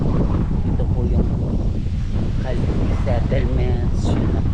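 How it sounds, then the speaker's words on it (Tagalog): Strong wind buffets the microphone at a scenic overlook, a loud, steady low roar that fills the whole clip, with faint voices underneath. "malakas po ang hangin dito"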